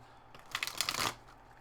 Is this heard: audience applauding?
no